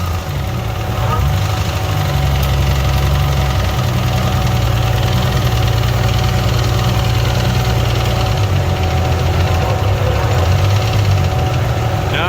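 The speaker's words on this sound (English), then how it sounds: "So we've got some very not good noises coming from the motor." A damaged Nissan 350Z engine with a Tundra MT90 supercharger idles with a steady low rumble, rough and uneven underneath, with a knocking vibration running through it throughout.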